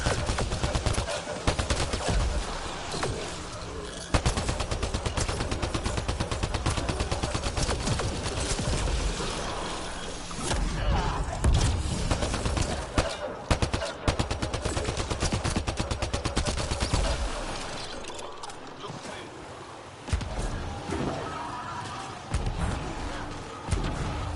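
Sustained gunfire during combat in Mass Effect Andromeda, rapid automatic bursts and heavy impacts hammering almost nonstop, loud and close, with brief lulls and occasional thuds.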